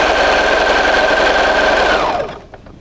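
Sewing machine running a seam, a loud steady mechanical whir with a constant tone that winds down and stops near the end, heard alone without talk.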